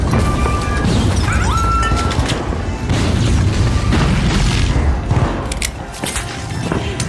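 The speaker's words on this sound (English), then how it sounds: "Frag grenaded." A frag grenade goes off in the video game The Finals amid continuous heavy booms and crashes, with layered blasts, impacts and debris rumbling throughout, and brief tonal game sounds early on.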